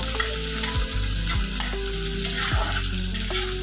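Boiled eggs fry lightly in hot oil with a steady, loud, close sizzle that runs continuously without pause, with no voices.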